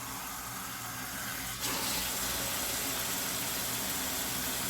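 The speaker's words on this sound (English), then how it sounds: "in there we're gonna add some water" Water pours into a pot while asopao de pollo is being made, a steady broadband gush starting abruptly partway through and continuing loud and even to the end, with no talk.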